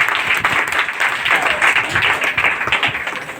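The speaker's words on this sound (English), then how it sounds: "So give them a big round of applause." A crowd applauds loudly and steadily throughout, with dense overlapping claps and no pause.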